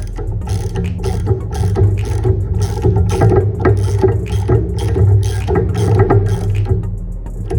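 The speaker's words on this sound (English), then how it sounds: "you can go ahead and put your socket that is specially made for spark plugs on." A ratchet fitted with a spark plug socket tightens the spark plug on a Predator 79cc engine. Close, repeated clicking strokes sound over a steady low mechanical hum.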